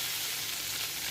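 Curry leaves sizzle steadily in hot oil, a loud, close, continuous crackling hiss with no voices.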